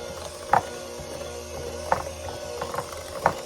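Caramel apple dip being stirred in a pot, a spoon scraping and knocking against the sides in a few separate strokes over a steady low background hum.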